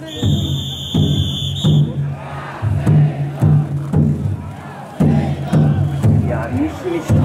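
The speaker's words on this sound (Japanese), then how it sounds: "まだ行くぞの声です。" A festival crowd shouts rhythmic calls around a heavy taiko drum float at Hachiman Shrine during the Niihama Taiko Festival, with a steady drumbeat underneath and a loud, dense mass of voices.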